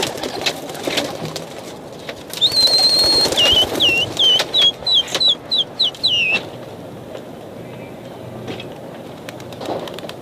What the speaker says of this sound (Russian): Вот наши голуби, посередине.